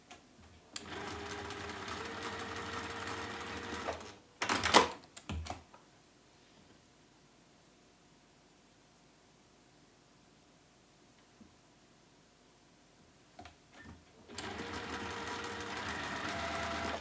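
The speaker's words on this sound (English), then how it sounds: "So we'll sew those on, and then that's that third row then done and created." A sewing machine stitches bias-cut quilt block pieces for a Tilda snowman block, running in two steady bursts at the start and end with a quiet pause and a few handling clicks between.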